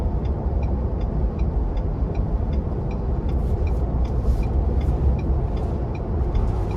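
A 2023 Ford Bronco two-door with a 2.7-litre twin-turbo V6 driving in sport mode, a steady dense engine and road roar heard from inside the cabin, loud and continuous with no speech.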